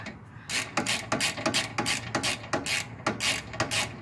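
A ratchet tightening a rear brake part on a 1998 Nissan Pulsar SSS with SR20 engine, producing rapid, evenly paced clicking bursts, close and clear, with no talking.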